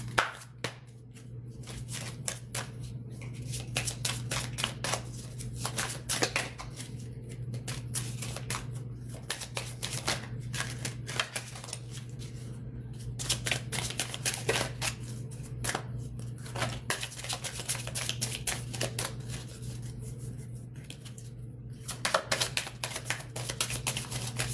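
Moonology oracle cards are shuffled and handled in a long run of quick, crisp riffles and soft slaps, close by, with brief pauses, over a steady low hum.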